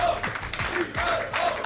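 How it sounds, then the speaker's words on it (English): Live crowd at a StarCraft II WCS Europe Premier League semi-final cheering and applauding for player TLO, a steady wash of clapping and shouts with a commentator's voice audible over it. "give the crowd one more chance to cheer his name"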